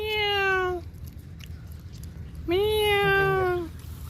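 A cat in Saudi Arabia gives two long, loud drawn-out meows close by, separated by a quiet pause with faint background noise.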